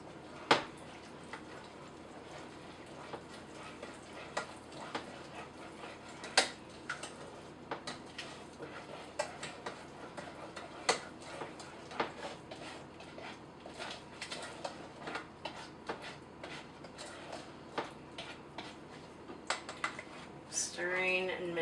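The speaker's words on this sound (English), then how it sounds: "Stirring and mixing up the ingredients here." Playdough ingredients, water and oil, stirred in a bowl: a quiet, irregular series of small tapping and scraping clicks spread over the whole stretch, faint and close, with occasional background voice.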